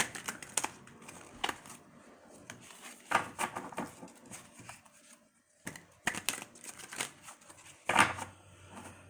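Tarot cards are shuffled by hand in a series of quick riffling, papery bursts with short pauses between them, close and fairly quiet, with no talking.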